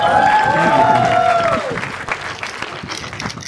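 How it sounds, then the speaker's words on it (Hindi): An audience applauds a contestant on stage at a talent show, clapping and light cheering rising under overlapping talk, then the applause thins out into scattered claps. "एक बार जोरदार तालियां"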